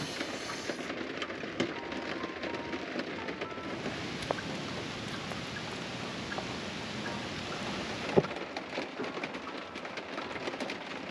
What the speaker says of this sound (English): So the rain is finally starting to clear up